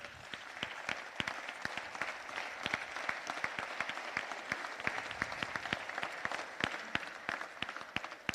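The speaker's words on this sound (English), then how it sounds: "I want us to clap for you." Applause from an audience at a city council meeting honoring police detectives, a steady crackle of many hands clapping throughout at moderate distance, with sharper individual claps standing out.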